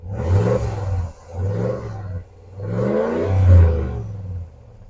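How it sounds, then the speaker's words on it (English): Ram 1500 pickup truck engine revved through the exhaust in two deep, roaring bursts, each rising and falling, close and loud with a low rumble between them. "As you rev it, you can just hear the testosterone coming out of the exhaust."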